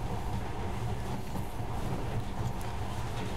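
A monorail train in the video game Metro Last Light runs steadily with a constant low rumble and a faint rattle, moderately loud, with no talking.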